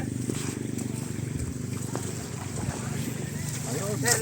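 Small outboard-powered boat on open water heading out toward an island off Dasol, Pangasinan, its steady low engine drone joined by wind buffeting the microphone and splashing, with people talking faintly over it throughout.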